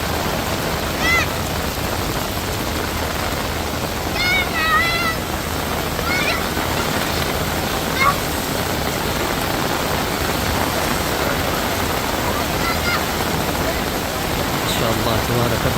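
Heavy rain pours steadily at Masjid al-Haram in Mecca, a dense continuous hiss with crowd voices and occasional cries scattered through it.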